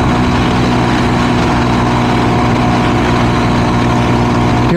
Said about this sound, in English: I'm gonna take that Honda Trail 125 out on the freeway and throttle the heck out of it.